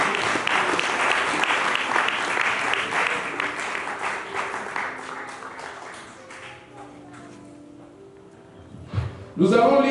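A church congregation applauds together, a full rhythmic wave of clapping from many hands that tapers off over several seconds, leaving quieter room sound before a voice speaks loudly at the end.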